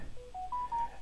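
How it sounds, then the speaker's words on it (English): A mobile phone goes off with a short rising sequence of clear electronic tones, close and fairly quiet in an otherwise calm room. "why does my phone go off all the time when I'm doing this?"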